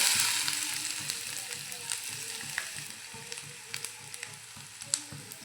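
Bitter gourd pieces frying in hot oil in a pan, a continuous close sizzle and crackle with scattered sharp pops and light stirring taps, fading slightly over several seconds.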